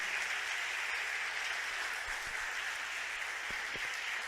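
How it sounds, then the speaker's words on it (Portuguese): A church congregation applauds steadily for about four seconds, a dense, even wash of clapping throughout with no voices over it. "Vamos aplaudir a Jesus pela vida da Cristina, pela vida do Rogério"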